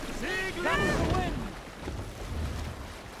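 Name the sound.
ship sailing on the sea in the video game Assassin's Creed Valhalla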